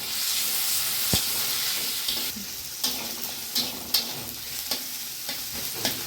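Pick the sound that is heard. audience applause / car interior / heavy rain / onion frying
onion frying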